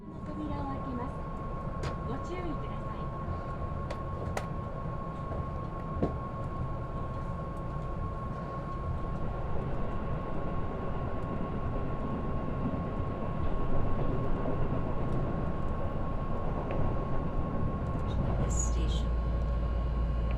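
A Keihan 8000 series train runs through Kyoto, a steady low rumble of wheels and car noise with a constant hum, occasional clicks and a rise in rolling noise toward the end.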